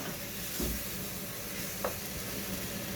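Chopped garlic and coarsely cut peeled tomatoes with their juice sizzle in a pan for a brown ragoût, a steady close hiss broken by a couple of soft stirring knocks.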